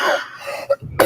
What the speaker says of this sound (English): I apologize for the cough.